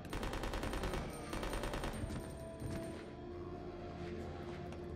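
Rapid bursts of automatic gunfire rattle in Resident Evil Code: Veronica X, sounding dense and continuous at first, then giving way to lower rumbling game noise and scattered impacts.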